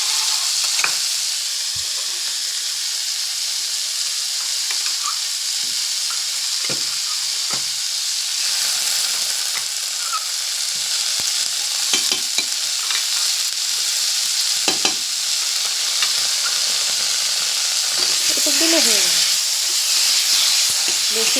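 Spice masala sizzles steadily in a frying pan as it is stirred and sautéed, a continuous bright hiss with scattered scraping knocks from the spatula throughout.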